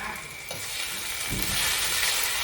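Spicy field rat being stir-fried in boiling oil, a steady loud sizzle with a couple of thumps from the spatula, close and continuous without talk.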